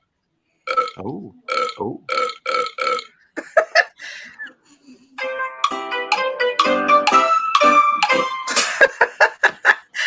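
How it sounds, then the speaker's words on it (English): A long, loud burp with a stuttering, voiced rumble in a bar, followed by bursts of chuckling and laughter and a brief spoken exclamation. "The burp, yeah."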